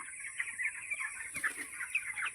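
Chickens cluck in a steady, busy stream of short calls close by, with no talking over them.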